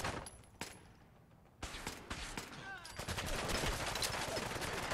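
A cyberpunk pistol mod in Fallout 4 fired as fast as possible, a steady stream of rapid, close gunshots that grows denser and louder after a short pause, with game sounds mixed in.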